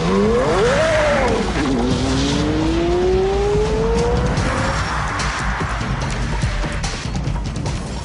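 A Porsche Carrera supercar pulls hard from a standing start on a closed course, engine note rising steeply through gears with a brief shift dip, loud and close, fading into broadband roar.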